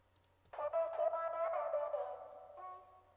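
A vocal stab sample, pitched up seven semitones and low-passed, comes in abruptly after a near-silent start and holds as a muffled, sustained tonal chord that wavers slightly before shifting pitch near the end, quiet overall.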